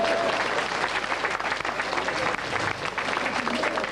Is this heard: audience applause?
yes